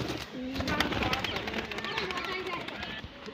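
A newly bought pet pigeon coos softly, close by, while people talk over it nearly the whole time.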